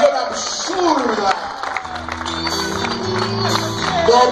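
Crowd at a Lucha Libre wrestling event claps and cheers in a steady roar, with a commentator's voice talking over it and tonal music or a sustained hum emerging midway.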